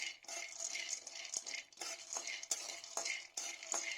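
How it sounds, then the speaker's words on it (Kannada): Peanuts roast in a thick-bottomed pan, a quiet steady rattle and scrape of nuts being stirred with light clinks, close and without voices. "ಬಾಣಲೆಗೆ ಎತ್ತಿಟ್ಟುಕೊಂಡ ಕಡಲೆ ಬೀಜವನ್ನು ಹಾಕೊಂಡು ಅದು ಕೆಂಪಾಗೋವರೆಗೂ ಹುರಿದುಕೊಳ್ಳೋಣ."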